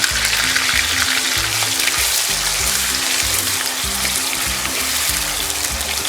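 Onion paste fries in hot oil in a wok with a loud, close, continuous sizzle and bubbling, joined by scraping stir strokes and light clinks, with no talking.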